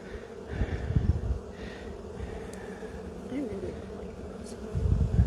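Honeybees buzz steadily and calmly around an open beehive during an inspection, a continuous low drone with an insect passing close at moments, while faint talk sits underneath.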